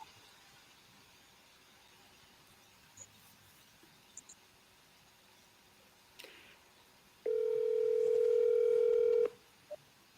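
After a voice assistant dials a number, a phone gives a steady electronic tone lasting about two seconds, with a few soft clicks in the quiet room before it.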